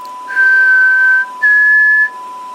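Two long, steady, pure whistled tones, clear and close, the second slightly higher, separated by a brief pause against a faint electronic hum.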